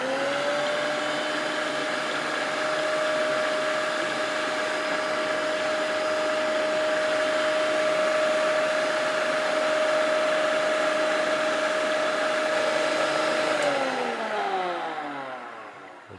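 Electric mixer fitted with a beater attachment whips five eggs in a capped jar, a steady loud motor whir holding one pitch for about fourteen seconds, then winding down as it is switched off.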